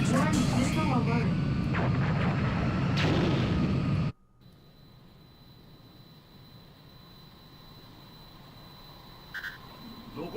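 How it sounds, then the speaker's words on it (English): Incoming missile in the flight combat game Ace Combat 3: Electrosphere: a loud roaring rush for about four seconds that cuts off abruptly to a quiet hum with a thin steady tone and a brief blip near the end. "Yep, that's a missile."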